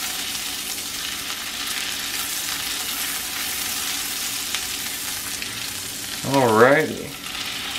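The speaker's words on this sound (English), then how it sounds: "As you can see, the onions are cooking, the garlic's cooking." Onions and garlic frying in a pan alongside an elk ribeye cook: steady, dense sizzling hiss throughout, with someone briefly speaking near the end over the crackle.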